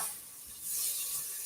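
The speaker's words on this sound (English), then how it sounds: "I don't know if you guys can hear that sizzle through the camera." Onions sizzle in a pan while being moved around with a wooden spoon, a faint hissing fry with soft scraping strokes, rising slightly partway through.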